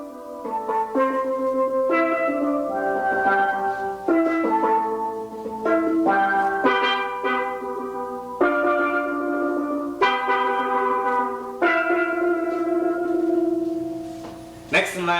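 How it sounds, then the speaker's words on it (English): Double tenor steel drum pans ring out a counter melody in a 1977 New York steel band demonstration, a steady run of bright, sustained struck notes heard up close and alone, with a sharp accent near the end. "Next we have the double tenors that plays a counter melody. Sometimes it plays a melody."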